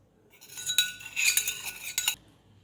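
A metal spoon stirs coarsely crushed peanuts, chili and salt into curd in a bowl, giving a few short bursts of clinking and scraping close by.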